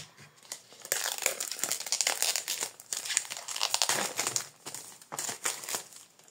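Plastic wrapping on the L'oracle des lumières d'Inanna oracle card deck crinkles and crackles loudly and up close as it is peeled open, in steady bursts with brief pauses.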